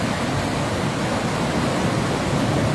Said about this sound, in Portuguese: Olha o volume da água.